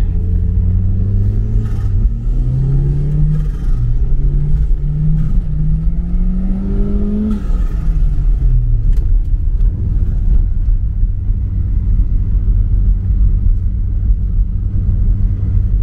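A first-generation Toyota RAV4 fitted with a Torsen limited-slip differential accelerates through a long sweeping corner, its engine droning and rising steadily in pitch under heavy constant road and wind rumble from inside the cabin, with no talk.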